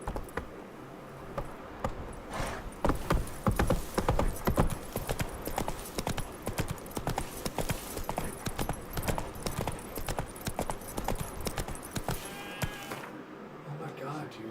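Hooves of Roach, the horse in Witcher 3: Wild Hunt, pound out a fast, loud galloping clip-clop that runs nearly throughout, under someone talking at times, and slows toward the end.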